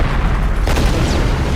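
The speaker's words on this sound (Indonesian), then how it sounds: "membiarkan bom itu meledak" A heavy bomb blast in a film rolls out as a sustained low boom with a sharp burst near the middle, dense and loud throughout.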